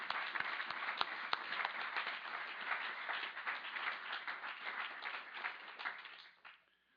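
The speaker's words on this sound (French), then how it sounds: "je veux bien qu'on les applaudisse pour qu'ils entendent en bas" Conference audience applauding in a hall, a dense steady burst of many hands clapping at moderate distance that holds for several seconds and then fades out near the end.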